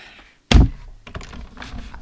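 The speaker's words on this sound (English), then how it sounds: "I'm going to just die cut one more label." A paper label is die cut, giving one heavy thunk from the cutting machine followed by softer clicks and shuffling handling noises.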